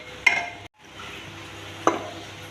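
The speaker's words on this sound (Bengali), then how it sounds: "লবণ দিয়ে তেলের মধ্যে আমি ফুলকপি নাড়াচাড়া করে নিচ্ছি।" Cauliflower being stirred in hot oil with salt gives a quiet, steady sizzle, marked by two sharp clinks of a spatula against the pan.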